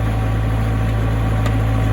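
Small earth auger engine running steadily while drilling a planting hole, a loud constant droning hum with no clear change in revs.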